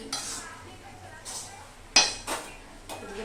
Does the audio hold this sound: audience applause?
no